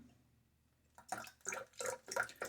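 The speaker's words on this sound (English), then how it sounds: "But I do wet my beard to get it to start to soften up." Hands splash water onto a beard to soften it before a wet shave. After a quiet second, four or five close, uneven splashing bursts follow one another.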